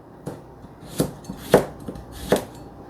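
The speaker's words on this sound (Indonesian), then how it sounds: "Nah aku mau lalap timun 2. Dipotong-potong ya." Cucumber being chopped on a board with a knife, four or five distinct sharp thunks spaced irregularly over a few seconds, close and clear in a quiet kitchen.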